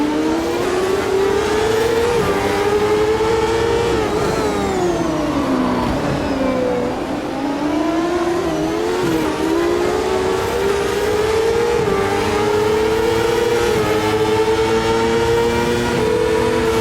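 A race car engine roars continuously in the Automobilista 2 racing game, its pitch rising and falling as it shifts through gears and revs, loud and close with no pauses.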